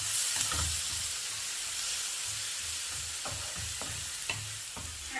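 Onion and pepper sizzle and hiss steadily in a hot pot, a close, continuous frying sound with occasional crackles and stirring scrapes and no talking.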